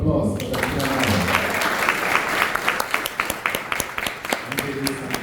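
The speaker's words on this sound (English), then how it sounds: "Can we have a round of applause for Dakshina Nayak?" An audience at a New York cultural program breaks into applause, a full burst of many hands clapping close and lively, with speech heard at the start and end.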